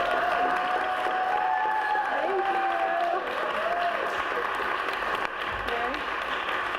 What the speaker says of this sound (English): Let's give an extra round of applause for Sally Staten.